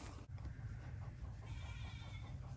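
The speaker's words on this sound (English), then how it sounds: "don't leave me with those goats. Do you hear them? All they do is yell." Goats on a farm bleat and call in a quiet, fairly distant chorus, a short burst of overlapping cries over low background rumble.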